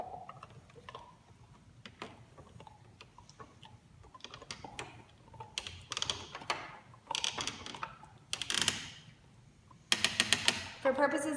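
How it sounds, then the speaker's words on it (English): A screw is driven into a bamboo box with a hand tool, giving soft ticking and clicking that builds into denser, louder bursts of creaks and scrapes toward the end, close by with no voices. "I'm going to put this screw in the whole way so you can properly see."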